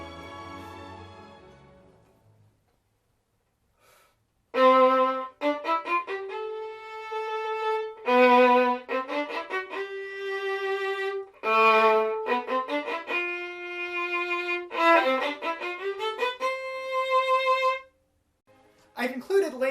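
Violin upbow staccato played by combining a pinch with collet motion: close, crisp runs of rapid short detached notes in several bursts with brief pauses, after a short stretch of speaking voice at the start.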